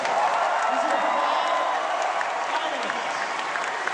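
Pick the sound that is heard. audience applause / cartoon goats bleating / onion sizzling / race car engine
audience applause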